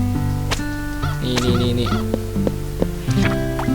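Chickens clucking in the farming video game Harvest Moon: Hero of Leaf Valley, clear repeated bird calls over a tonal game music bed, heard without talk.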